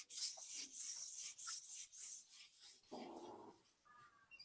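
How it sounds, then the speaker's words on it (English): A ring casting rubbed on a sanding stick gives quiet, close, rhythmic scratchy strokes in quick repeated passes, followed by a brief softer rubbing sound near the end. "I'll just run it over the sanding stick one more time"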